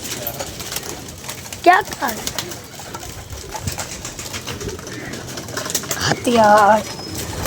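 A couple of brief pigeon coos sound nearby, one early and one near the end, amid constant chatter from people talking over a noisy outdoor backdrop.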